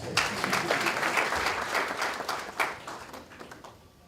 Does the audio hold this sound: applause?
yes